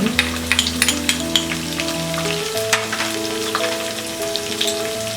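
Onions frying in ghee for bread upma give a steady, close sizzle with dense crackling and popping that runs the whole time, with no voices.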